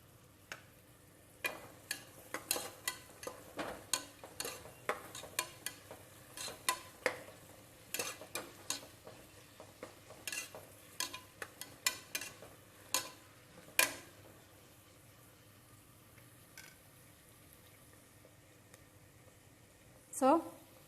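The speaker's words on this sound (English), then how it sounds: "So let it fry, allow it to fry for 4 to 5 minutes." Curry leaves frying in hot oil for vangibath, crackling with sharp, irregular pops and spits close by that thin out toward the end.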